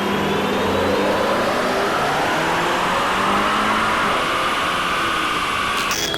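A car tuned with a Superchips stage 1 remap revs hard on a dyno, its engine note climbing in a long sustained loud pull, close and continuous with no talk.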